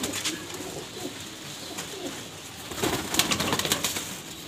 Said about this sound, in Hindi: खुद ब खुद ही अंदर चला गया कबूतर एक।